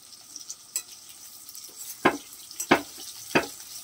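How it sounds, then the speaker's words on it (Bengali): Bitter gourd and potato pieces fry in hot oil, a low steady sizzle broken by three sharper scraping stirs near the end. "আলুগুলোকে একটু ভেজে নিচ্ছে।"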